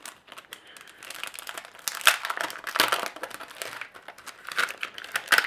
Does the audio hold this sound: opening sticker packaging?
yes